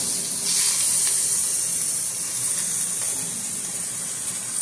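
Onions sizzle steadily in a pan as they cook down for stuffed shells, a continuous bright hiss held at an even, moderate level for several seconds with no talking over it.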